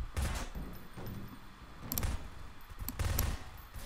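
Gunfire in the game Garry's Mod Prop Hunt: a few short, sharp bursts of shots stand out over a faint, noisy background, coming in quick clusters rather than a steady stream.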